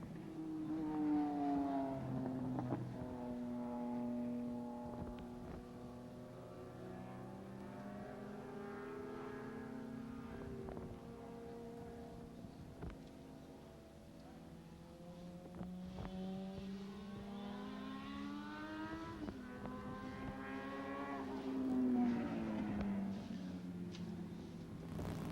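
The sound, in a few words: Kawasaki ZX 1100 race machines racing past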